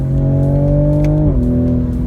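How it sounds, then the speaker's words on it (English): A 2020 Toyota Supra's exhaust holds a steady, loud engine drone under acceleration, then a quick upshift drops the pitch abruptly, and the drone carries on at the lower note. "If you can hear that exhaust now, that's how fast this thing shifts."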